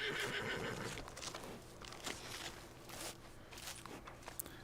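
A horse whinnies near the start amid hoof clip-clops and light rustling in the video game Red Dead Redemption Online, with the whinny fading into scattered steps and movement.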